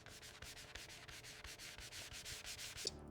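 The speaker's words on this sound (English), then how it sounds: "It is sanded again and again, each grit finer than the one before it." Ox horn being sanded with progressively finer grit, a close, steady rhythmic rubbing with repeated even strokes, faint overall and with no voices.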